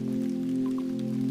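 Soft, steady rain patters on a roof, an even wash of water sound that stays constant throughout beneath a sustained, humming musical drone.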